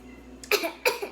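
A couple of sharp coughs from pepper close by, two quick bursts about a third of a second apart over a quiet background hum.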